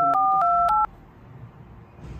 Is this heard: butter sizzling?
no